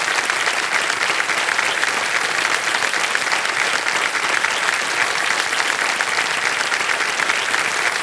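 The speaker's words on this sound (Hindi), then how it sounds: "तालियां बज जाएं इनके लिए एक बार" A studio audience on the game show KBC Season 16 claps for a contestant, with dense, steady applause that stays loud and unbroken throughout, with no talking over it.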